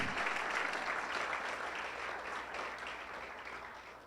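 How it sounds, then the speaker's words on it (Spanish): A church congregation applauds together during a Christmas service, giving a dense, steady wash of clapping that goes on without a break and fades slightly toward the end. "podemos darle un aplauso al Señor porque Él está con nosotros ahora"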